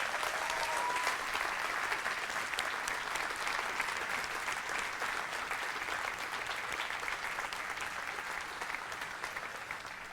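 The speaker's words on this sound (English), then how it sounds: "can we give a thunderous applause to all of our seniors this morning?" A church congregation applauds its seniors during a morning service, with dense, continuous clapping from a large crowd that holds steady and slowly tapers toward the end.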